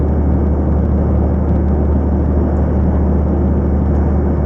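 A 410HP heavy truck hauling 42,590 kg climbs Haldon Hill at full throttle in 7th gear around 1500 RPM, a steady, loud, deep engine drone with constant rumble and no breaks.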